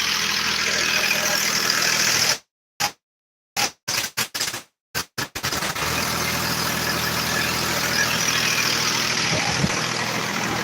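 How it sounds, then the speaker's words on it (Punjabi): A generator running a water pump motor on Punjab farmland gives a loud, steady engine drone that fills the clip, broken by a few brief dropouts near the start; no one speaks. "ਹਰੇਕ ਮੋਟਰ ਦੇ ਉੱਤੇ ਜਨਰੇਟਰ ਚੱਲ ਰਿਹਾ"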